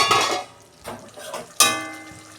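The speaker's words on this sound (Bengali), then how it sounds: "দেখুন বন্ধুরা ঢাকনাটা আমি খুলছি" A metal lid lifts off a pan of simmering hilsa fish curry with a few sharp clanks and a ringing clatter, the last bang loudest, over a faint bubbling of oil.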